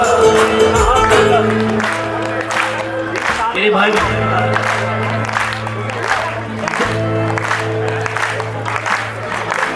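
Audience at a large Sai Sandhya devotional evening in Indra Vihar claps together over loud music, a crowd noise filling the space while a voice speaks briefly.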